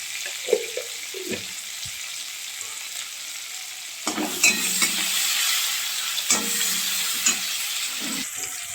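Slit green chillies and cumin seeds hit hot oil in a pan with tomatoes for a thin potato, cauliflower and pea curry, giving a steady close sizzle and spatter with scattered stirring clicks and a louder burst midway, no talk.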